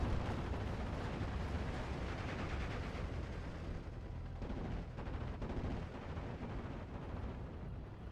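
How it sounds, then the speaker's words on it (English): Dense, continuous rattling gunfire and booming from aircraft strafing runs in the World War II strategy game Steel Division 44, a sustained roar of overlapping shots. "Nice little strafing runs"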